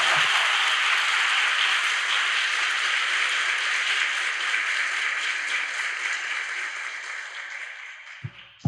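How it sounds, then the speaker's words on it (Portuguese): An audience at a Catholic biblical gathering gives a big round of applause, a full wash of clapping that holds steady then slowly fades, ending with a few scattered claps. "Vamos saudá-la mais uma vez com uma grande salva de palmas."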